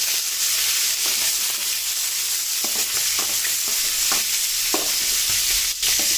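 Green chillies and tomatoes sizzle in hot oil in a kadai while being stirred, a continuous close crackling hiss with soft scraping strokes from the spoon.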